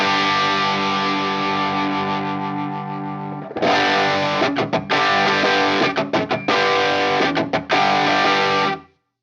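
An electric guitar heavily distorted through a Mo Distortion copy pedal holds a long ringing chord, then plays loud chugging palm-muted riffs with sharp stops before cutting out.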